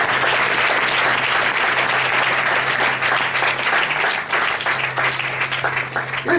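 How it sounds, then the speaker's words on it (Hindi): A church congregation applauds in thanks to God, loud, sustained and dense clapping from a large crowd that continues for several seconds with a steady low hum underneath. "ताली बजाकर परमेश्वर को धन्यवाद।"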